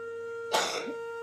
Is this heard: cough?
yes